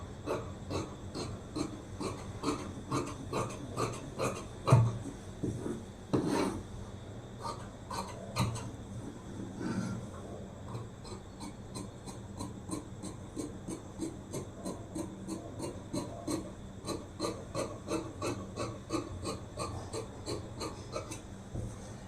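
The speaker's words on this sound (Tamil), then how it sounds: "இப்போ நம்ம இதை கட் பண்ணி எடுத்துடலாம்" Scissors cut through blouse fabric in a steady run of close, crisp snipping and rasping strokes, with regular rhythmic cuts repeated throughout and no talking.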